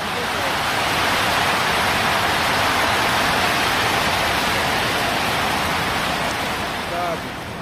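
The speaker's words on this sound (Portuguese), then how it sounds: "Está chovendo forte." Heavy rain at Botucatu airport pours down in a dense, constant hiss, loud and even throughout with no voices.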